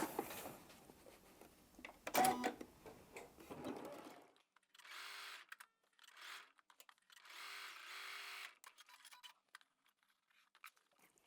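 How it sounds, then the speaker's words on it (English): A sewing machine stitches a quarter-inch seam along the edge of a quilted mug rug, running in several short bursts with pauses after an opening stretch of rustling handling noise. "I'm going to sew all along that edge 1/4 inch"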